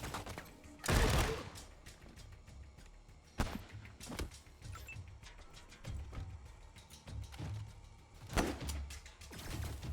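Pistol shots in the video game Wasteland 3, a few sharp separate bangs spaced irregularly over low background game noise, with no talking.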